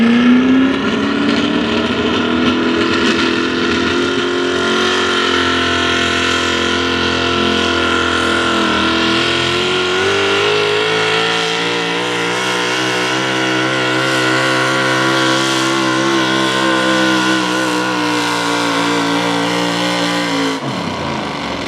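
A 1964 Ford pulling truck's engine roars continuously for a long stretch at a truck pull, revving and straining with a rising, wavering pitch before cutting off abruptly near the end.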